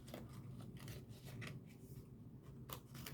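Scissors snip and rub through a paper box flap for a die-cut designer handbag craft. The cuts are soft, close and quiet, with short crisp snips scattered over a few seconds and no talking.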